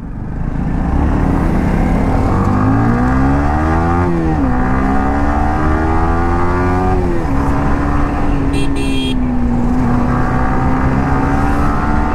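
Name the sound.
traffic jam on a small road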